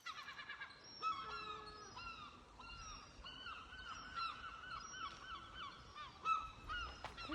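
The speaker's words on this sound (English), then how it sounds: "There are just hundreds of seagulls around." Many seagulls calling around a house, overlapping squawks and wailing cries coming in quick, irregular bursts at moderate distance over a faint background.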